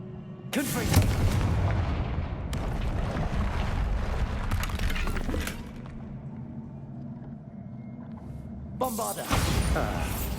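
In Hogwarts Legacy, the Confringo fire spell erupts in a loud, roaring blast that rumbles on for several seconds, fades back, then is followed by a second burst near the end.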